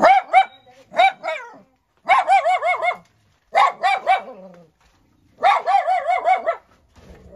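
Several dogs bark loudly in repeated clusters of sharp yaps, close by, with short pauses between the bursts.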